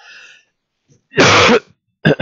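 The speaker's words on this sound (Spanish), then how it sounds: "perdonen la tos" A sharp, harsh cough close up, followed by a second brief cough after a short pause, with a faint murmur just before.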